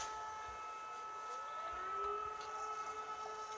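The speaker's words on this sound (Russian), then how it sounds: "Сирена, предупреждающая об опасности." Civil defense warning siren in Sochi, a steady wailing tone with a slowly shifting pitch that sweeps and holds, carrying from a distance over faint city background, with no voices.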